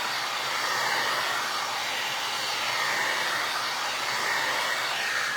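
A hair dryer blows continuously at close range, drying tissue paper laid over a vinyl record for holiday snowman decor; a steady loud airy whoosh with no pauses and no speech.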